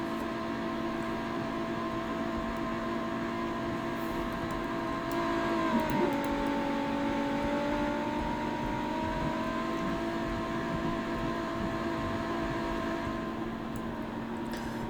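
Sports car engine in the Roblox game Greenville, a steady continuous drone with tonal harmonics that dips briefly in pitch midway, then holds level and moderately loud throughout with no talk.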